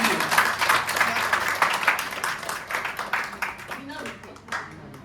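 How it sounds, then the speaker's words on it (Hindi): Audience applause at an Independence Day celebration event, a dense run of many hands clapping that stays steady and close throughout, thinning slightly toward the end. "हमें उन माँ बाप के लिए भी जोरदार तालियां बजानी चाहिए।"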